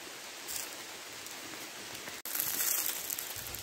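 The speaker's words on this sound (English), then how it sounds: "Out in the woods in the pouring rain." Steady rain hissing down in woodland in Scotland, a dense wash of drops pattering on leaves and surfaces, constant and fairly close, with a brief sharp click partway through.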